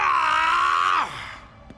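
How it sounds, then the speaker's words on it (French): A sustained scream holds steady for about a second, then drops sharply into a falling groan and fades, heard alone with no other sounds. "J'ai entendu crier."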